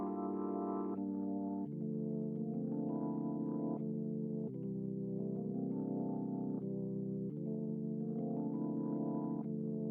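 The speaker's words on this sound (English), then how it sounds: "I've used this B3 organ, the same chords as the first piano, and it sounds like this." Sustained chords from a B3 organ with a gentle vibrato shimmer, changing every second or two in a slow, steady progression, soft and alone with no voices.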